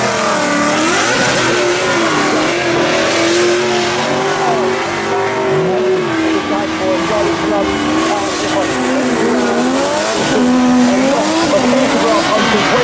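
Original Honda NSX, the car developed with Ayrton Senna, driving at the Goodwood Festival of Speed, its engine revving and rising and falling in pitch close by, with tyre noise and crowd sounds around it.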